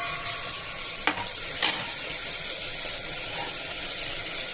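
Tomatoes fry in a pan for a tomato-date curry, making a constant close sizzle broken by a couple of brief utensil clinks against the pan, with no talk.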